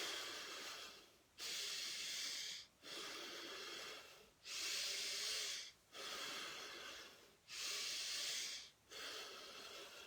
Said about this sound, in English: Just keep breathing in and out, and in and out.